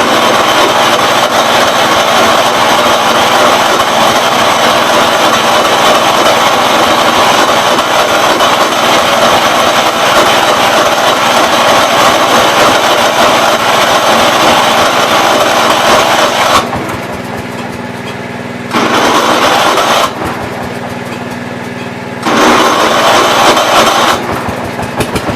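A vintage garden tractor engine runs with a loud, steady high-pitched mechanical roar and rattling, then cuts in and out with abrupt drops and surges near the end.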